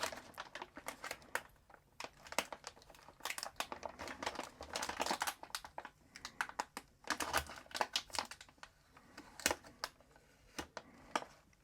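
Yellow security tape is peeled and a plastic bag crinkled open from a GIGABYTE Radeon RX 7900 GRE Gaming OC graphics card box, a close, steady run of crackling rustles and small sharp snaps with no talking.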